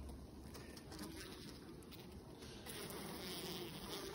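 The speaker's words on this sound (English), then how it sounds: "There was enough of a gap created for the bees to go in and out." Honeybees buzz around a push-in cage pressed onto comb in a beehive, a steady faint swarm drone with no talking.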